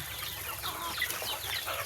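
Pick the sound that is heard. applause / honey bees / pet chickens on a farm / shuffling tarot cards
pet chickens on a farm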